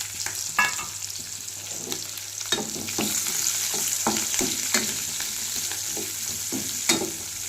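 Onion petals and garlic frying in oil in a wok, a steady bright sizzle with intermittent scraping stir strokes, close and continuous with no talking.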